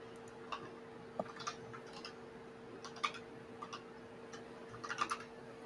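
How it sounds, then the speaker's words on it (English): Faint scattered keystrokes on a computer keyboard, light irregular ticks and clicks in short bursts against a quiet electrical hum. "we can hear you typing"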